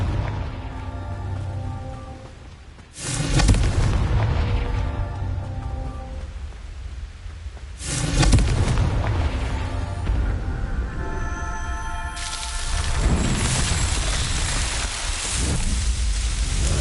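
Three heavy blasts from the Confringo spell in Hogwarts Legacy hit around 3, 8 and 12 seconds. Each loud, broadband burst decays into a rumbling tail over a continuous game soundscape.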